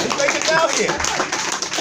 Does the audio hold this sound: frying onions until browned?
no